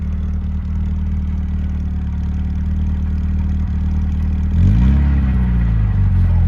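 A built Volkswagen Jetta engine, revived after sitting over ten years, runs steadily at idle with a low, even rumble, then revs up briefly near the end before settling back down.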